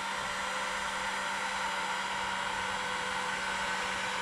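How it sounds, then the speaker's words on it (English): A heat gun set to about 450 degrees blows a steady, loud, close whooshing roar while shrinking heat-shrink tubing over wiring connectors during a tail light restoration. "I just take my handy dandy heat gun, and I've got this set for about 450 degrees"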